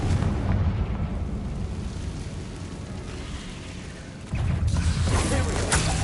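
A Confringo fire spell explosion in Hogwarts Legacy: a broad, rumbling blast that fades into a long noisy tail, then a second sharp burst near the end, loud and close.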